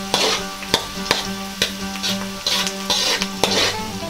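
Beef and mushrooms sautéing in a pan hiss and sizzle steadily at close range, broken by repeated sharp clinks and scrapes of a utensil stirring against the pan.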